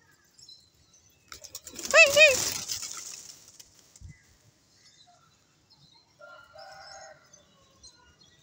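Pigeons flutter and call loudly in a short burst, wings flapping nearby, then it goes quiet apart from faint, scattered chirps.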